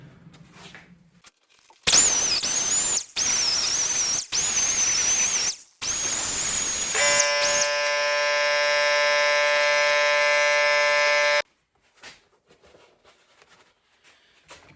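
A grinder used to buff and cut parts during a speedometer repair: several short, loud whining bursts, then one long, steady high-pitched run that cuts off abruptly, with near silence before and after.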